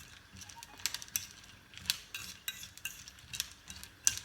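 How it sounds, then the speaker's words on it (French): Dried fruits soaked in orange blossom water being stirred with a utensil, giving soft, quiet, irregular scraping and clicking taps in short bursts, close and alone without any voice. "On mélange bien pour que le tout soit bien imbibé"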